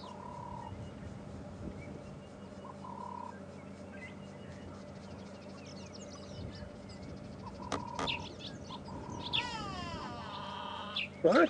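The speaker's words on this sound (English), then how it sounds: "that was a grey go-away bird that just let off its very distinctive call" Grey go-away bird giving its distinctive call on an evening safari drive in the South African bush near Djuma, a brief burst of calls rising near the end over a steady chorus of frogs and other birds, no talk.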